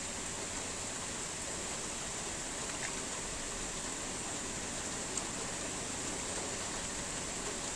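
Heavy rain pouring steadily over an open farm field where paddy is being sown, a dense, unbroken hiss with no breaks, close and even throughout.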